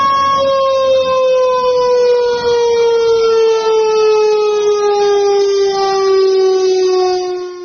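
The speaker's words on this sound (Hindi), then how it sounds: "पाकिस्तान में भी सायरन लगा दिए गए हैं भारत के डर से" A civil defence air raid siren in Pakistan, installed as a warning against possible attack, wails steadily and loudly with a slowly falling pitch throughout, sounding alone without any talk.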